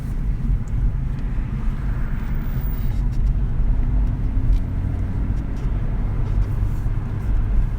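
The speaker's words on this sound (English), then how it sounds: "we've been driving with the window down, so we've had quite a bit of noise" Road noise inside a 2017 Honda Civic Si coupe driving with a window down: a constant loud low rumble and wind roar, unbroken throughout.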